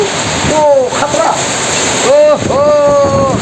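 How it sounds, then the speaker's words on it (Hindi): Steady rain pours down in Diphu, a dense continuous hiss of falling water filling the scene, while voices talk over it at close range. "तो अभी बारिश देना शुरू हो गया।"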